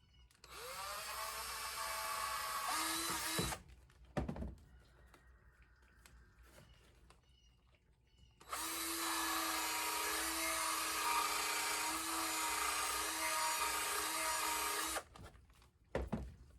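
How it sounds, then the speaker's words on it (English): An electric drill whines at a high pitch in two long bursts separated by a quiet pause, with brief clicks and knocks between runs. "And I need to drill me a hole down here for the wire to go through."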